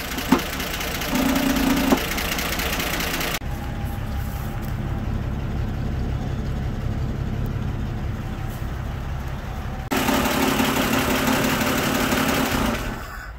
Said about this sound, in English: little bit of rattling from the valve cover. I don't have it bolted down.